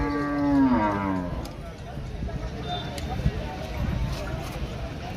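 Bulls at a weekly cattle market in Devarakadra, Telangana, one lowing loudly and close at the start, with a busy crowd murmuring and animals shuffling throughout.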